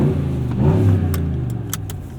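A 2026 Ram 1500 pickup with the 5.7L Hemi V8 and 48-volt eTorque mild hybrid revs once from idle, a steady near engine note that swells and eases back, with faint jingling over it.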